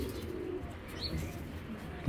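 Pigeons coo softly and continuously at close range in a loft of tumbler pigeons, a low, steady murmur with a brief louder burst at the end.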